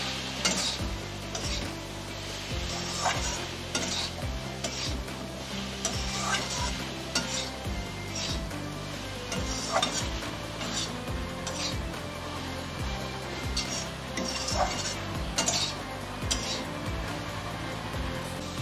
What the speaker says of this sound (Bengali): এবার একটু ভালো করে 5 মিনিট ধরে কষিয়ে নেব।